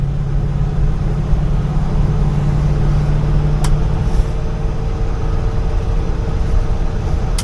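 A 5.3 V8 swapped into a K20 Suburban with an SM465 gearbox pulls hard while accelerating in third gear around 40 mph, a steady loud engine drone with a rising tone that shifts midway, continuous road noise beneath.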